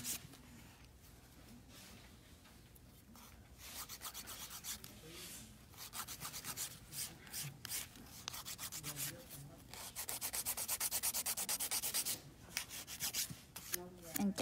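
A nail file shaping fingernails after dip powder, heard as close, quiet rasping strokes in short rhythmic bursts, with a faint voice in the background at times.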